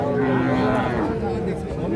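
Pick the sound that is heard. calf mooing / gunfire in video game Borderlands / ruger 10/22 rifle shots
calf mooing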